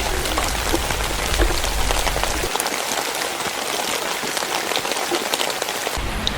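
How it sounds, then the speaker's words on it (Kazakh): Gentle, steady rain falling, a continuous soft hiss of drops with no voices, holding an even level throughout. "Бұл көріністердегі жай ғана бір жайлы жаңбыр."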